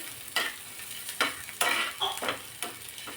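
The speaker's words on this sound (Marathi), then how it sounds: "आता हा कांदा थोडासा परतून घेते" Onion sautés and sizzles in a pan for butter chicken masala. Repeated stirring strokes scrape through it in an uneven rhythm, close and moderately loud, with no voices.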